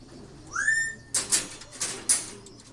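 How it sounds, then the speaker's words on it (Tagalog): Racing pigeons at a loft after road training give a rising whistle-like call followed by several soft, clipped bursts of coos and wing noise, close and clear against a quiet background. "hinihintay natin yung ibang ibon"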